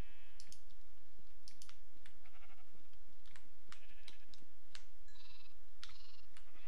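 Sheep bleating in the video game Minecraft, several short bleats scattered over a steady stream of computer keyboard clicks and typing, with no speech.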